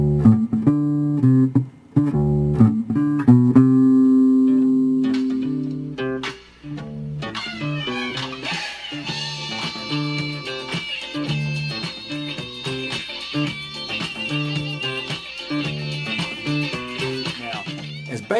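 Electric bass plays a bass line at a quicker tempo, with a dense run of plucked notes that opens with a few sustained tones and then settles into a steady, busy groove.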